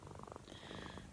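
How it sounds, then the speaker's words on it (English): A cat lying on a lap purrs in a close, low, continuous rumble with a faint rhythmic flutter, quiet and alone. "You might be able to hear Madam purring."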